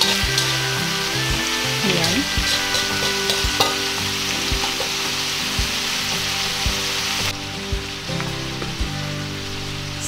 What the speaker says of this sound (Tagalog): Ngayon po ay nilagay ko na yung isda dito sa ating kawali